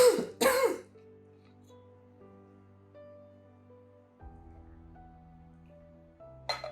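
A woman clears her throat and coughs in two quick, loud bursts on a dry day, followed by quiet, sustained soft musical tones.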